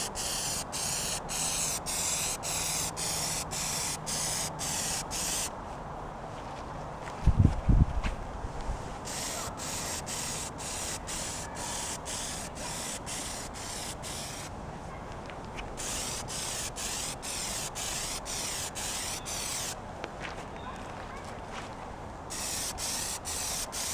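An aerosol can sprays a coat of Plasti Dip in long bursts of close hiss, broken by brief pauses and a short knock or clatter partway through.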